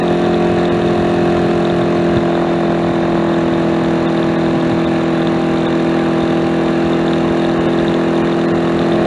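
A small motorcycle engine runs at a steady, loud, close drone with an even mechanical hum and no talking over it.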